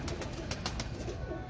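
A pigeon coos softly at a loft, its low murmuring calls steady beneath a broad wash of background noise, with a few brief sharper sounds breaking through.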